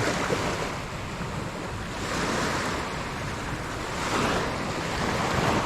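Sea water surges and washes at high tide along a Philippine shoreline during ultralight fishing, a steady, moderately loud rush of waves swelling and easing with no speech.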